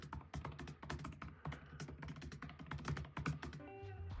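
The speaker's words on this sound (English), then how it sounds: "Here's some ASMR of the trackpad." Rapid, soft clicks come from repeatedly pressing the mechanical trackpad of a MacBook Neo laptop, close and quiet, in an uneven patter ending with a brief tonal chime.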